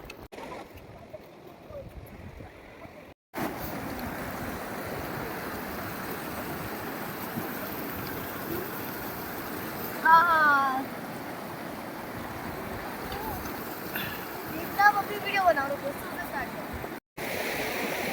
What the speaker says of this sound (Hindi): नुब्रा के रास्ते में ये बहुत ही सुंदर झरना है